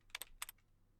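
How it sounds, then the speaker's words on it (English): Computer keyboard typing heard as a few quick clustered keystrokes, two short bursts close to the microphone, then quiet with a faint background hum. "That is just the sound of my keyboard."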